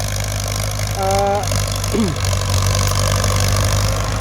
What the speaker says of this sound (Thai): เดี๋ยวคลิปนี้เขาจะ ติดภาพมาเบิ้งรถไถฟอร์ดครับผม